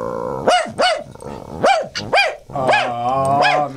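A man imitates a dog barking, giving a run of loud, close, gruff woofs in short bursts, some with a growling edge, and no other voices between them.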